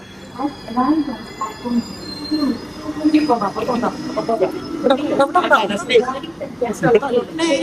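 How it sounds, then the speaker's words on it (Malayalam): A train arriving at a station platform rumbles along with squealing wheels and metallic screeches, while people talk loudly nearby over the noise. "നമ്മുടെ ട്രെയിൻ അങ്ങനെ എത്തിയിട്ടുണ്ട്"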